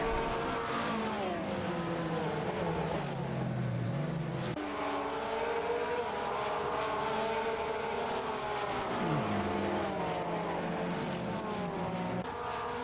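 A GT3 America race car in a sim racing game at Road Atlanta drones steadily with gliding pitch through shifts and corners, a continuous mid-level engine tone with no talking.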